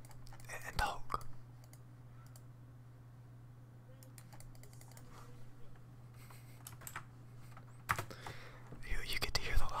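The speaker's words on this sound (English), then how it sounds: "You get to hear the live keyboard sounds." Soft keyboard typing and clicking while playing League of Legends rattles along under quiet, close talk, with a few louder bursts of rapid keystrokes.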